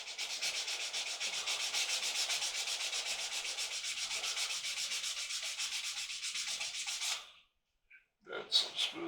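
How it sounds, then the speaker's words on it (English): Sandpaper is rubbed back and forth over a plastic 1/16 scale model tank kit part, a close, fast, even rasping rhythm for about seven seconds, then a pause and a few more strokes. "Come in here with some sandpaper."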